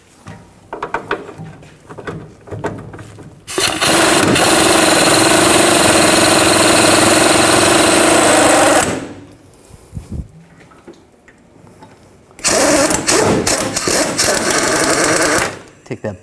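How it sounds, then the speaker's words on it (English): Power tool on a 21 mm socket spinning out the upper rear shock absorber bolt on a 2007 Chevy Silverado 1500 Classic, two loud sustained whirring bursts of several seconds each, with clanks and handling noises between them. "use a 21 millimeter wrench on the nut and a 21 millimeter socket"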